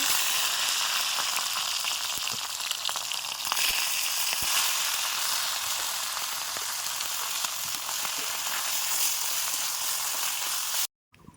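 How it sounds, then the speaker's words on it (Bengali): Steady, loud sizzling of salted hilsa fish frying in hot mustard oil, a continuous crackling hiss that runs almost the whole time before cutting off abruptly at the end. "তেলের উপরে মাছটা আমি দিয়ে দিচ্ছি"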